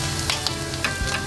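Bacon frying in a pan for breakfast pizza, a steady close sizzle with scattered small pops and spatters; no talking.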